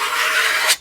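A flexible applicator scrapes filler along a rusty cast iron race boat keel in one loud, close, continuous rasping stroke that ends abruptly.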